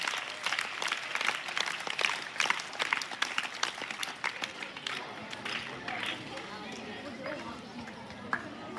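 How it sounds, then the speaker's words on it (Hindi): A crowd claps at a school farewell event, giving a sustained burst of dense, crackling applause that thins out toward the end, with voices faintly mixed in. "एक बार जोरदार तालियां महावीर जी के लिए और रतन जी के लिए भी।"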